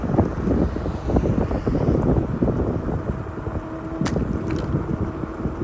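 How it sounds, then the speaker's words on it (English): Steady, heavy wind buffeting the microphone with low rumbling gusts throughout, loud and close, no voices. "it's a very windy day."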